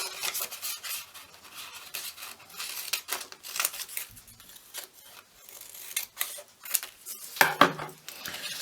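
Scissors snip and rustle through paper in short irregular crisp bursts, close and fairly quiet, with faint scraping between cuts.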